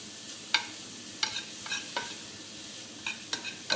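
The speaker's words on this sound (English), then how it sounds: "We're going to saute down those like a warm salad." Vegetables sauté in a pan with Cajun spice, a steady soft sizzle broken by sharp clicks and scrapes as they are stirred every half second or so.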